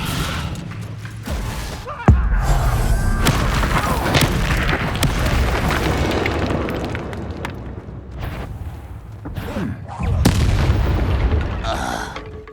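The Descendo spell in Hogwarts Legacy hits with heavy booming impacts, a sharp thud near the start and another swell later, amid rumbling combat noise and mechanical clatter, with a voice speaking over parts of it.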